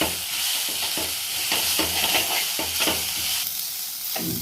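Mysore spinach thoran with ground coconut paste stirred in a pan, with repeated scraping strokes of a spoon against the pan over a constant close sizzle, at a steady rhythm.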